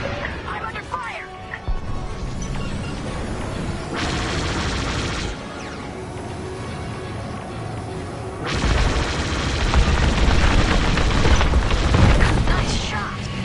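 Starfighter cannons firing in the Star Wars: Squadrons space combat game, dense rapid laser bursts and booms layered over loud engine roar, growing heavier toward the end.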